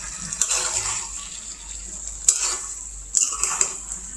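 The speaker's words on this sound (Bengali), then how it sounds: "এখন আমি মিষ্টি লাউটা একটু নাড়াচাড়া দিয়ে দিব" Sweet gourd being stirred in a cooking pan with a utensil: a few scraping, clinking strokes against the pan at close range, with short pauses between them and no talking.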